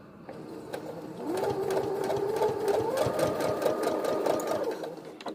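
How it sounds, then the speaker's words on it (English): A sewing machine stitches a cloth face mask, backstitching over the elastic; a steady, close motor whir with rapid needle ticks runs throughout, growing louder after the first second, with no talking. "And I backstitch over the elastic to make it a little bit more sturdy"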